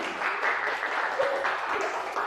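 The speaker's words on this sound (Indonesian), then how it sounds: "Tepuk tangan, ya." A classroom group of teacher trainees breaks into brisk, steady applause, many hands clapping together at moderate loudness in a small room, sustained throughout with a faint voice briefly audible beneath it.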